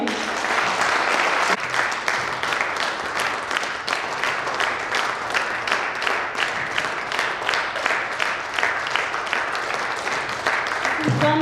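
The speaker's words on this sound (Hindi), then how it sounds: "उनके सम्मान में दिल से एक बार जोरदार ताली।" A crowd at a first anniversary celebration claps loudly and steadily in honour of a guest, a dense, sustained wave of applause running the whole stretch with a faint voice or two mixed underneath.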